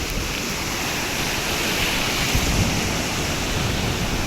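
Sea waves at Bela Chhora beach roll in as a steady, loud broadband wash with gusty wind across the microphone, continuous for the whole stretch and no voices.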